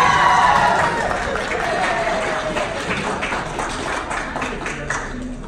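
Audience clapping in a hall during a Nepali comedy muktak performance, a dense burst of applause with cheering and voices, strongest at the start and then settling into a steady, slightly fading patter.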